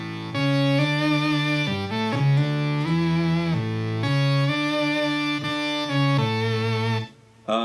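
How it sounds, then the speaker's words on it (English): A sustained synth tone from an Eventide H9 guitar pedal plays a melodic line of held, harmonically rich notes with shifting pitches, loud and steady, ending abruptly with a brief cutoff. "Here's the synth out of the Eventide H9."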